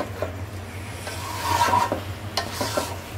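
Potatoes being stir-fried in a pan make a close sizzle under continuous stirring, with rubbing scrapes against the pan throughout, and a low hum beneath.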